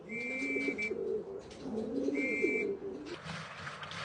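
Pigeons at a loft coo in soft, rolling phrases close by, while a thin steady whistle sounds twice over the birds.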